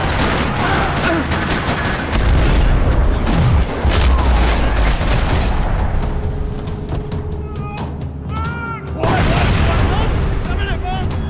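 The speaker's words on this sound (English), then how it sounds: "Another parking lot rattling with gunfire." Gunfire rattles through a parking lot in the Max Payne 3 video game: dense, continuous bursts and booms that fill the whole stretch, mixed with game sound and a loud burst near the end.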